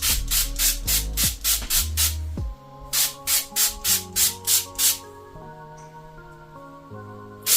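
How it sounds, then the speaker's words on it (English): Spray bottle misting water onto hair in mini twists: bursts of rapid hissing sprays in quick succession, close and loud, over soft background music. "So what I'll do first is just spray my hair down."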